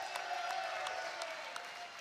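A crowd at a live college football show in a bar claps steadily, faint and distant, with scattered sharp claps standing out over the wash of applause.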